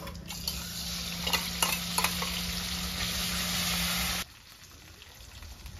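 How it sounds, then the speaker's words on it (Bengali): Ginger and green chili paste sizzling among frying dried red chilies and whole cumin in a village-style kitchen, a steady hiss with a few stirring scrapes that cuts off sharply near the end. "বন্ধুরা আদা কাঁচা লঙ্কা বাটা দিয়ে দেবো"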